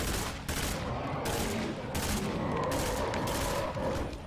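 Rapid bursts of gunfire crack in quick succession in the zombie survival game State of Decay 2, several loud broadband shots over a dense, continuous background of battle noise.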